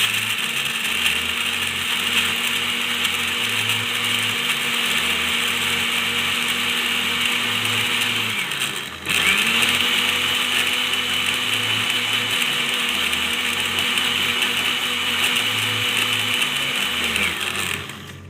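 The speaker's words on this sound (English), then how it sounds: "So I'm going to take this to the blender, and I'll have it blended." A kitchen blender blending peppers whirs loudly and steadily, its motor pitch dipping briefly midway before spinning back up and running on.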